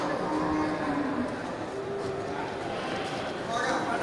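Water buffalo lowing at a busy livestock market, a low drawn-out call rising out of dense crowd noise and chatter that runs through the whole stretch.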